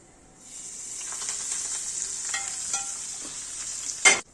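Hot oil hits baking soda over farali handvo batter with a bright, steady sizzle that swells and holds for several seconds, with light stirring beneath and a sharp clatter near the end.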